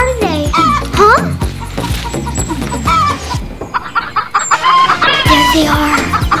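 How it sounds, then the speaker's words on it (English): Chickens cluck and squawk repeatedly over a busy, music-like backdrop, with a voice briefly calling out. "Chickens! Chickens!"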